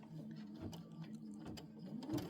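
A sewing machine stitching fabric for a quilted mug rug runs with a steady, rapid mechanical whir and ticking needle strokes, fairly quiet and continuous throughout.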